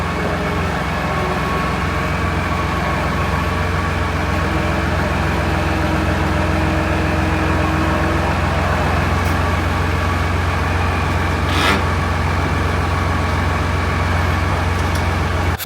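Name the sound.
tractor engine running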